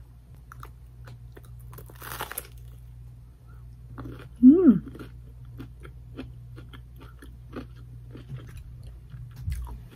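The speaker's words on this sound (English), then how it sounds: "You guys hear the crunch?" Close crunching bites and chewing of crunchy pizza, with a brief hum of satisfaction from a voice partway through.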